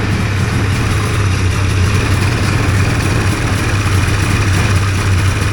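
A Hurricane hovercraft's engine runs at a steady, loud drone with a deep low hum and rough broadband noise, unbroken and close.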